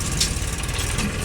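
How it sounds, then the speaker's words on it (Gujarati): A tractor engine runs nearby, a steady low rumble with a faint mechanical rattle throughout. "ટ્રેક્ટર પાછા થઈ ગયા ચાલુ જોઈ લ્યો"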